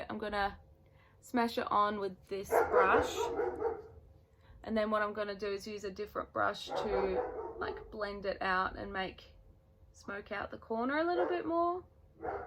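A pet dog barks faintly in the background of a home makeup session, short yips breaking through while someone talks steadily over them.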